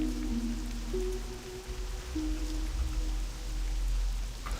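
Steady rain hiss in the World of Warcraft Classic game world, with a dwarf priest out in the weather; a soft continuous patter under faint music tones, no one talking.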